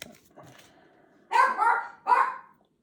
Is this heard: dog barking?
yes